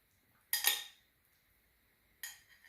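Two short clinking scrapes of utensils against a bowl while a shrimp salad is mixed, each a bright clatter lasting under half a second with quiet between, close and fairly faint.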